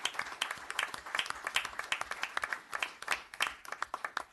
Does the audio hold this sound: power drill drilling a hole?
no